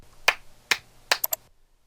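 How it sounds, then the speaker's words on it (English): Three sharp hand claps close to the microphone, spaced evenly, then two quicker follow-up taps before silence; no voices. "we basically indicated those places by clapping 3 times"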